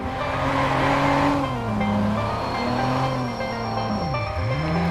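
A car races in the Watch Dogs video game on PS4, its engine droning loud and steady, shifting pitch as it accelerates and eases off, with tires squealing through the turns.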